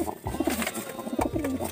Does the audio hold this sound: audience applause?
no